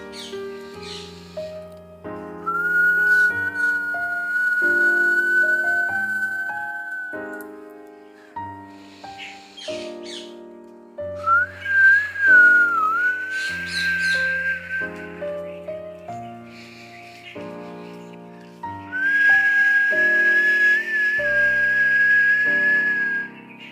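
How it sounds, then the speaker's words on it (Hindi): A breathing exercise in a yoga session: several long whistling exhales through pursed lips, each a steady high tone lasting a few seconds, with instrumental music playing underneath throughout. "होठों को गोल करके, जैसे कि आप विस्लिंग कर रहे हैं, सीटी मार रहे हैं, अपने मुंह से एक्सहेल करना है"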